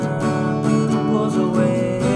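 Guitar strumming the chorus chords of a song, a steady run of bright, evenly spaced strums played close and alone.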